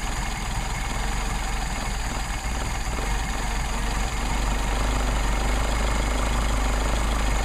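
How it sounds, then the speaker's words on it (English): A Mercedes 190SL engine idles on Solex carburetors with a steady, loud, close rumble and a continuous mechanical chatter, and no talking. "So we get our idle back up."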